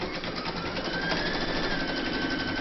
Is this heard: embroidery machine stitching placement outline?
yes